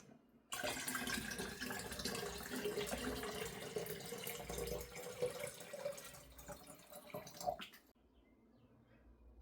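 Filtered water pours steadily from a container, a close, continuous splashing rush that runs for several seconds, swells slightly, then stops abruptly into quiet, with no talking.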